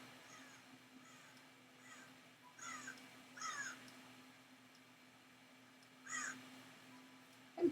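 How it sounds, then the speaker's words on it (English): Crows caw several times in the Rising World video game, faint and distant, in short scattered calls over a quiet background hum. "I'm hearing crows in the game."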